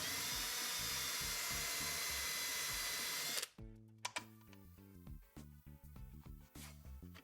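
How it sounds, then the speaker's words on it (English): A drill fitted with a countersink bit widens bolt holes in plexiglass, a faint high whine running steadily before cutting off, followed by scattered clicks and short bursts of the motor starting and stopping. "use a large drill bit to widen the holes for your bolts, or get an inexpensive countersink bit"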